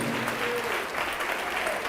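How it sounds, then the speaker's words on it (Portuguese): A church congregation applauds during a televised service, a steady wash of clapping from many hands filling the space at moderate loudness, with no distinct voice standing out. "Vamos aplaudir mais ao nome de Jesus."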